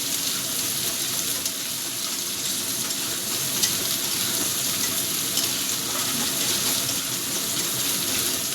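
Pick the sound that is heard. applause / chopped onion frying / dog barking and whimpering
chopped onion frying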